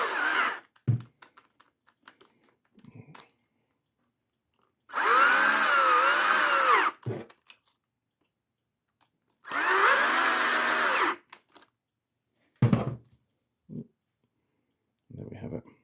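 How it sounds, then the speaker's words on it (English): An electric drill whirs in two long bursts of several seconds each while cross-tightening screws on a 1/16-scale drive sprocket with flange coupling, separated by quiet pauses with small clicks and handling noises. "we use the electric drill."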